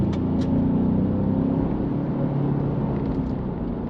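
A 2020 Ford Ranger FX4 pickup drives along a road, its engine and tyres giving a steady, loud low rumble heard from inside the cab throughout.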